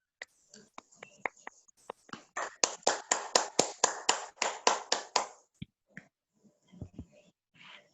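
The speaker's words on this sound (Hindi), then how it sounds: "आप सभी साथियों से उनको ताली बजाकर आमंत्रित करना चाहती हूँ" Audience at a Hindi-language gathering claps to welcome speakers to the stage, starting with a few scattered claps, then a steady burst of close, sharp hand claps over several seconds before fading to isolated taps.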